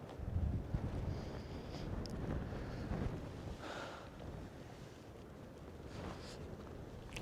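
Wind blows steadily across the rim of the Grand Canyon in Arizona, buffeting the microphone with a continuous low rumble and gusty roar that persists throughout without pause.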